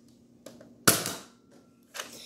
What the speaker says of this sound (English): If you didn't see the dart and you heard the bang on the bookshelf, then you know that it actually shot.